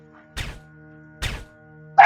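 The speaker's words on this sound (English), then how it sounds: "explosion sounds are still a little loud" Two short, punchy bursts about a second apart, each a broadband thud with a crackling tail, from video game explosions in a tutorial level, followed by the onset of a third blast at the very end, all over a quiet steady hum.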